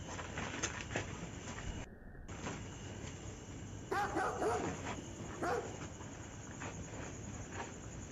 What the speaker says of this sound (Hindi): कुत्तों की भी आवाज़ आ रही है